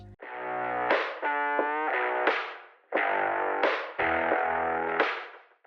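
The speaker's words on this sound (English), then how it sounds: "a guitar riff that is heavily coated and dripping in distortion and has a frequency filter on it" A heavily distorted riff repeats in phrases, its buzzy tone sweeping as a filter opens and closes, loud with brief gaps between phrases.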